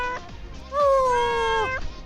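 A cat meows in Bewitching Sinners, one drawn-out, slightly bending call ringing out clearly, set apart by a couple of short, softer sounds.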